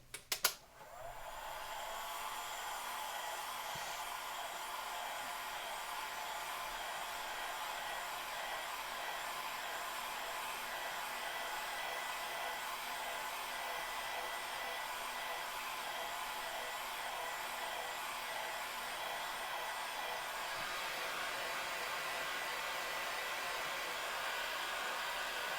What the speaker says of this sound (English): Now let me hit it with the dryer.